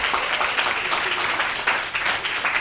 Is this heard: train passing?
no